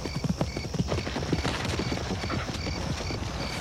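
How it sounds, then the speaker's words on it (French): Rapid clip-clop of a horse's hooves, a dense rhythmic pattering of many hoofbeats at a gallop, moderately near and steady throughout with no talking, with a faint high tonal hum behind it. "On aurait dit un galop de cheval."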